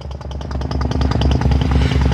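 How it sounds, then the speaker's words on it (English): A compressor-driven thrust borer ram works underground while laying a new water main, giving a loud, fast, steady pneumatic hammering with evenly spaced rapid blows throughout. "On the end of there is like a ram. What do you call it? That's a thrust borer."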